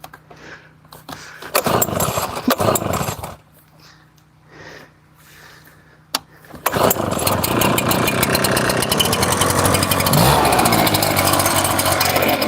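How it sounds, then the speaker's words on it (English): A small gas leaf blower engine is pulled to start beside a firewood fire, with a few rough sputtering attempts before it catches and settles into a loud, steady close roar. "I'm gonna go grab my blower and start this fire up."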